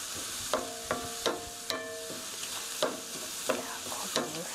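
Tofu sauce being stirred in a pan, a spoon clinking against the pan about eight times in an even rhythm, close and clear over a faint low sizzle.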